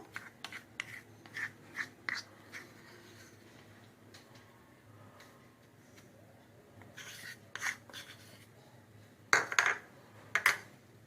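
Cake batter of melted ingredients whisked in a bowl at home, heard as intermittent soft scraping and rasping strokes that come in short bursts with quiet gaps, the loudest ones near the end.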